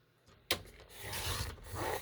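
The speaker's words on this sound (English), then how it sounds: "I'm trimming with just a little bit of green on top" Paper being trimmed for a 12x12 scrapbook page, cutting off a piece with a little green on top: a sharp onset, then a steady close rasping, rubbing cut that runs for about a second and a half with no talk.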